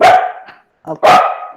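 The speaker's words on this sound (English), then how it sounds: "Sorry for my dogs." Pet dogs bark indoors during an online English lesson, two or three loud, close barks separated by a short pause, with a brief spoken word among them.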